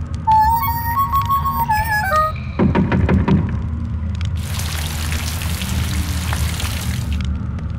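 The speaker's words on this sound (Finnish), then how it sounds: "Oli kesä ja ulkona satoi." After a few melodic harmonica-like notes and some hollow thumps, a steady hiss of falling rain sets in and continues evenly to the end.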